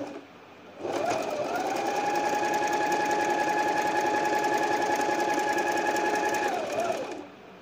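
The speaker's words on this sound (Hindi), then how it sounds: "चलें वन पर लाकर सिलाई लगाते हैं।" Domestic sewing machine fitted with a buttonhole foot stitches the first step of a buttonhole: a faint lull, then a sustained motor whine with rapid needle chatter for about six seconds, close and loud, before it stops.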